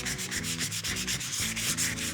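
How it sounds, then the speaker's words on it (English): Sandpaper rubbing back and forth over distressed wood edges to soften them, a steady rhythmic scratchy stroking repeated several times, close and clear with no talk. "we want to follow up with sandpaper"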